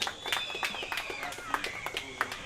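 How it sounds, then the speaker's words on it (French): Scattered, sparse claps from a small crowd at an African Day gathering during a gift presentation, quiet and somewhat distant, with voices and other faint sounds mixed in. "Applaudissons"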